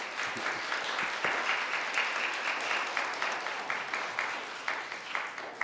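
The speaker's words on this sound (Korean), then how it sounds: "박수로서 우리가 환영을 하도록 하겠습니다" A church congregation at a Sunday morning service applauds to welcome a returning guest, a steady, moderately loud wash of clapping that holds evenly and tapers slightly near the end.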